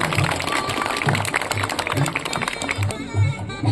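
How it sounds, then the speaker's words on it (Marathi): Sustained loud applause from a seated audience at a women's honour ceremony, steady dense clapping throughout with a voice briefly heard over it. "एक तर जोरदार टाळ्या झाला पाहिजे"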